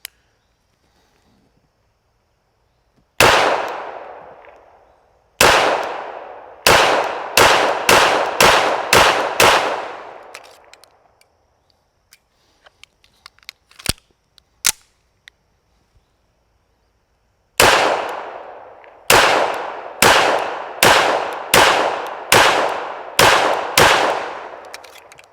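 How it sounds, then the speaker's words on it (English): Springfield Emissary 1911 pistol fired at B8 targets from 10 yards outdoors: two quick strings of sharp, loud shots, about seven then eight in steady rhythm, separated by a quieter pause with a few scattered clicks and distant pops. "I'm gonna shoot the B8s here and see how this thing actually shoots accurately."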